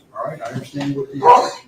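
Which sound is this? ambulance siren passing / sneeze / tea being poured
sneeze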